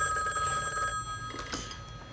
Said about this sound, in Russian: Это межгород, Леня.